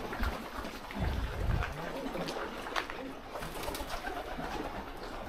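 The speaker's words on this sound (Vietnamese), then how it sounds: "trên này là những tổ chim bồ câu, chuồng chim bồ câu" Pigeons in a dovecote on a farm give soft, repeated cooing amid a steady noisy background, with the calls fairly near and continuing throughout.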